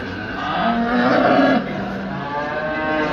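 A male calf at a livestock market in Düzce gives one loud, drawn-out moo close by, rising then trailing off, with background market murmur.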